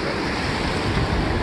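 Ocean surf breaks and washes onto a beach in a steady, loud roar, with wind buffeting the microphone throughout.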